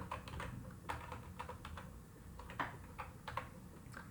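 Quiet, close typing on a computer keyboard, with uneven bursts of key clicks and short pauses between them, and no voices.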